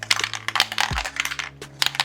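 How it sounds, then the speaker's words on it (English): Small magnets rattle and clatter beneath the wooden floor of a display base for a 1/6 Joker figure, a quick burst of close, dry taps and clicks as the base is moved. "The magnets rattle around."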